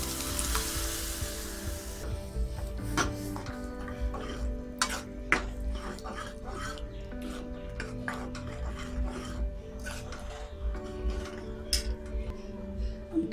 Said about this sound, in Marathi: आता आपण मसूर घालूया।